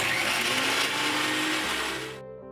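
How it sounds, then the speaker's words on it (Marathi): A kitchen mixer grinder whirs loudly and steadily while blending coriander, garlic and ginger into a paste, then cuts off abruptly near the end, leaving a brief fading hum. "आता आपण मिक्सर मध्ये कोथिंबीर, लसूण, आलं एकत्र पेस्ट करू."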